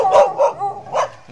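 Dogs bark in a Philippine subdivision, giving three or four close, sharp barks in an uneven run, with a softer yip at the end.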